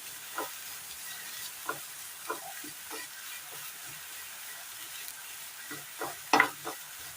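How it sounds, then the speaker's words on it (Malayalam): Chopped beetroot fries in a hot pan in a Kerala-style recipe while a spoon stirs it, with soft scraping strokes over a steady low sizzle. "ബീറ്റ്റൂട്ട് ഇട്ടതിന് ശേഷം നന്നായി ഒന്ന് ഇളക്കി കൊടുക്കാം"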